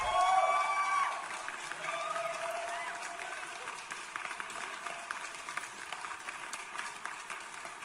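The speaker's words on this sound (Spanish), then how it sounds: "voy a ponerte los aplausos, chiquitín" Applause sound effect played on a livestream, a dense crackle of clapping that starts loud for the first second, then settles into a steady, slightly fainter patter that runs to the end.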